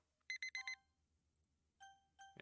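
Two bursts of electronic alarm-clock beeping sound in the dating game Doki Doki Blue Skies: four quick bright beeps, a pause, then two longer tones, clean and close against a quiet backdrop.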